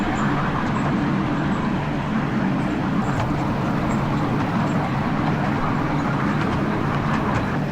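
Steady rolling rumble of a small ride-on tourist train at Mini Siam, Pattaya, with faint rhythmic clatter, close and continuous throughout, no talking.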